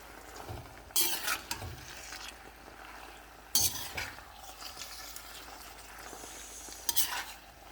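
Chowmein noodles with sauce and vegetables being stir-fried, with a low sizzle under repeated scraping and clinking of a utensil against the pan in several bursts.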